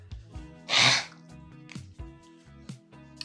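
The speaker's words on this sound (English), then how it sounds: "Blow my nose out." Someone blows their nose in one loud, breathy burst near the microphone, set among quieter background sounds and small clicks before and after.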